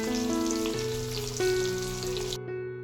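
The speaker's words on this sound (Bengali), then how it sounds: "যে কাতলা মাছ ভেজে নিচ্ছি, আজকে কাতলা মাছ করব হচ্ছে একটু আলাদা স্বাদের" Pieces of katla fish frying in hot oil, a dense close sizzle and crackle that holds steady before cutting off abruptly.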